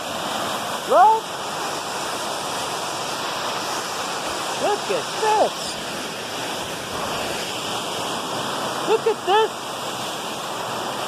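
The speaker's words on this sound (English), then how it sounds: "Look at the waterfall!" A waterfall rushes in a steady, broad roar throughout, while excited voices call out over it several times.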